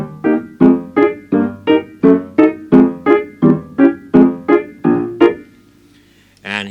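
Stride bass on piano, played with the left hand: a steady, loud oom-pah pattern of about a dozen alternating low bass notes and mid chords, then a brief pause and a final chord.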